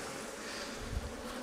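Honey bees hum around a Flow Hive during a vertical hive split, a soft, steady buzzing drone that stays faint and continuous through the moment with no talking.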